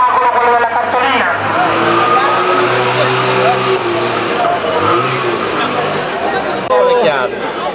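Car accelerating away at a 1992 gymkhana race in Mistretta, a steady engine drone with rising revs heard under continuous excited race commentary and crowd noise.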